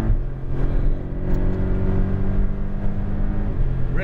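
A Porsche Cayman GTS accelerates hard on a Las Vegas track, engine note rising through the revs with an upshift partway through, heard loud and continuous from inside the car.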